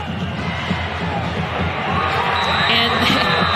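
A packed football stadium crowd at the Midland Lee vs Permian high school game roars continuously, loud and steady, swelling slightly toward the end, with a voice talking over it.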